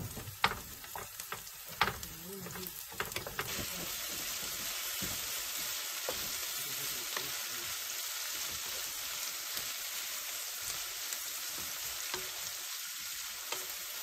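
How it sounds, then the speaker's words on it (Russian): Carrots sizzle and fry steadily in a skillet as a soup base is prepared at a log cabin, with a few sharper crackles and pan clatters near the start, then an even, continuous hiss with no talking. "Сейчас на сковороде сделаем зажарку."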